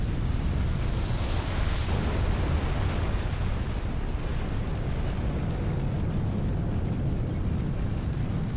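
Massive satellite cannon blasts in the video game Armored Core VI: Fires of Rubicon, a dense, continuous low rumbling roar that stays loud and heavy throughout with no speech.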